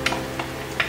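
Garlic and onion frying in a pan for Filipino bopis, a steady close sizzle with three brief scraping stirs of a utensil across the pan.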